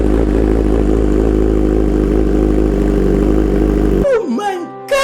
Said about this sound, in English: I have the Austin Racing GP exhaust. It's a full titanium system.